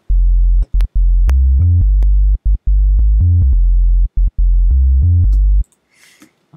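A dubstep sub bass synth in Logic Pro plays loud, deep, sustained low notes in a rhythmic pattern with short gaps. It ends in a faint tail, and no one speaks.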